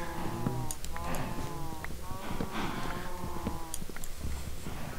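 Cows mooing in the Minecraft video game as they are let free, several low lowing calls repeating over a steady background with game sounds throughout.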